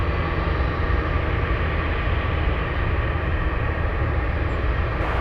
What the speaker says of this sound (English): You can hear them starting up those Pratt Whitney engines.